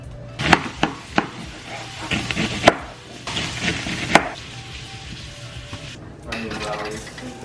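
A knife knocks against a cutting board while cabbage is cut up for a Korean noodle dish at home, in a handful of sharp, irregular taps and clacks, close by, with some kitchen clatter between them.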